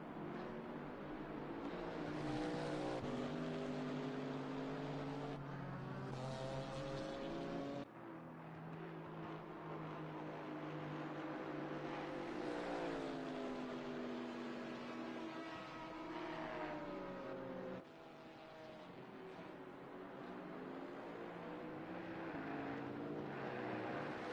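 A GT4 race car's engine at Kyalami in Assetto Corsa Competizione, a steady loud drone rising and falling through gear changes, with several abrupt shifts and revs as it laps the circuit.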